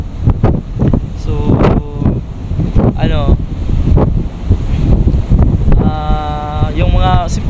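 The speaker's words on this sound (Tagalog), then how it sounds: "medyo malakas yung hangin" Strong wind buffets the microphone aboard a boat out at sea off Mindoro, gusty rumbling roar throughout, with a person talking over it.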